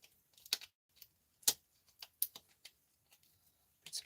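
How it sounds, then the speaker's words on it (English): Clicky plastic buttons on a circuit board being pressed by hand: about a dozen sharp, close clicks in an irregular rhythm, some in quick pairs, over near silence with no talking. "These are clicky click buttons. You can hear it."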